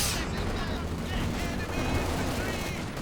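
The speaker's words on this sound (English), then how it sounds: "the machine gun back there getting some suppression on, halting that advance" In Company of Heroes 2, a machine gun fires in a dense, continuous battle barrage with booms and gunfire layered throughout. The sound is loud and sustained.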